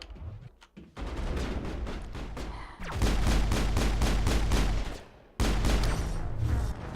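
Rapid bursts of gunfire in the Mass Effect video game, repeated loud volleys with short pauses between them, dense and close, with no talk.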